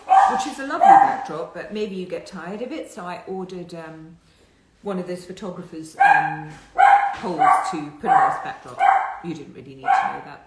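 A dog barks and yips indoors in a house, faint and intermittent behind a person talking steadily, with a short pause in the speech midway.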